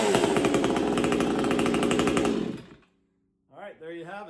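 A Vevor 20-inch gas chainsaw runs loud and close at high revs with the throttle held open, then dies out, and after a short silence a voice speaks.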